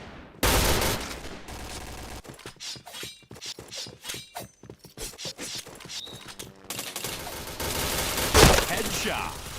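Gunfire from the shooter game Point Blank comes as sharp, rapid shots in uneven strings. Quieter single cracks in the middle give way to heavier bursts, and the sound is loud and close.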